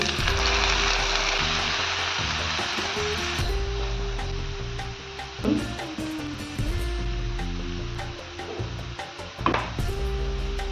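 Ginger-garlic paste and tomato paste fry in hot oil in a pan, giving a steady, loud sizzle with occasional clatters of a utensil against the pan, heard alone without talk.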